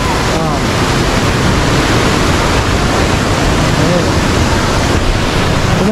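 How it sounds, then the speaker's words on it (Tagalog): Steady, loud rushing water at a resort bathing spot in Naga City, a continuous dense roar with no pauses, close to the microphone. "napakaganda ng daloy ng tubig"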